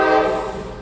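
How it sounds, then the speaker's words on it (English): Loud train horn of a passing train, a single sustained blast that slowly fades. "And if you hear that in the background, it's a train."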